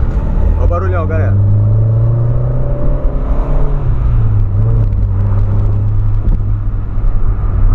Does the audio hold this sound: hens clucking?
no